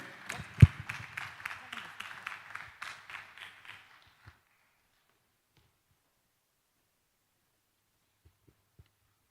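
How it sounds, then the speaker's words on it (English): An audience at the Omniverse Africa Summit conference claps for the co-convener: a short round of scattered hand claps that thins out over about four seconds, then gives way to near silence with a few faint knocks. "Is that how much you could clap for our co-convener?"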